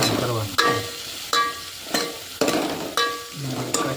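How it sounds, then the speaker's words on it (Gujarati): Onions sizzling in a pan while being stirred, a steady bright frying hiss broken every half second or so by sharp scrape-and-clack strokes of a spoon against the pan. "ડુંગળી ચડી જાય ત્યાં સુધી ગરમ કરવાનું છે."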